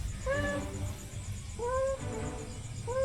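A fat cat with its head stuck meows three times, each meow a drawn-out plaintive cry spaced about a second apart, close and clear over a low background hum.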